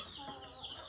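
Chickens in a small backyard mini zoo cluck softly in a brief burst, close by over a light background hiss.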